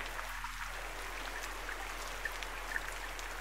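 Forest ambience sample for music production: a steady, quiet bed of soft hiss with faint scattered chirps and ticks, continuous and even throughout with no speech.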